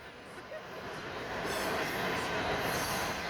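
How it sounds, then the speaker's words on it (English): A southbound CSX mixed freight train rolls past the Pennsylvania Avenue railroad crossing in Delaware, its roar and rail noise swelling steadily as it passes close by. "And there he goes, a CSX."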